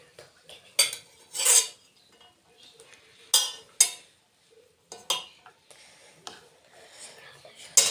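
Macaroni for Egyptian koshari poured into a metal cooking pot, with scattered clinks and scrapes of utensils against the pot in short bursts between quiet gaps, while a person talks nearby.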